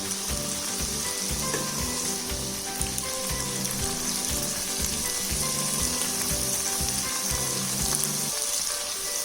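Steady, close sizzling of onion paste frying in a hot pan for Sindhi biryani, with scraping stirs over a constant crackle.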